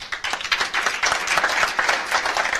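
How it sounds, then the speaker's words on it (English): Audience applause for honorary guests at a live evening event in Jerusalem, a steady, dense round of clapping from a large crowd that holds throughout. "it's an opportunity again to applaud our guests here today, our honorary guests"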